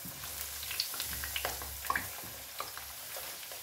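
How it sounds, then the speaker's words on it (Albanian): Squash frying in a pan at low temperature: a soft, steady sizzle with small crackles and light stirring clicks, close and quiet, no talk. "Do t'i skuqim në temperaturë të ulë që mos na skuqen me një herë"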